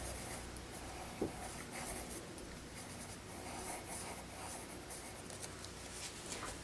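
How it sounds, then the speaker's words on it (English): Pen scratching and rubbing on paper while small donut shapes are drawn, a steady close-up scribble with one brief tap early on and no talking. "I'm just going to draw little donuts here."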